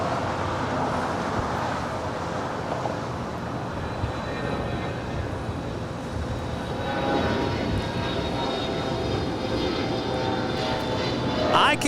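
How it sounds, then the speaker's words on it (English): A Virgin Atlantic 767 airliner arriving from London rumbles steadily overhead at an airport, a broad sustained engine roar that swells slightly toward the end, mixed with distant traffic noise. "That is Virgin Atlantic Flight 7 coming in from London up there on the north side"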